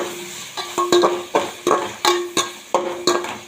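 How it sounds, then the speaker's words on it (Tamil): A radish sambar base sautés with red chili powder in a pan, stirred in about ten rhythmic scraping strokes over a light sizzle, close and fairly loud. "தேவையான அளவு லைட்டாக வரமிளகாத்தூள் தனி மிளகாத்தூள் போட்டு வதக்கிக்கணும்"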